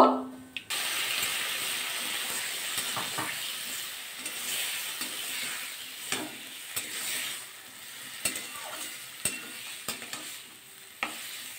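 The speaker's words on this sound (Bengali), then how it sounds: "সিমের বাটিটা দিয়ে জল একটু অ্যাড করে দিচ্ছি, সামান্য জল" Beans cooking with black cumin in a wok give off a steady hissing sizzle. Small splashes and stirring clatter break in at intervals as a little water is added, and a louder start opens the clip.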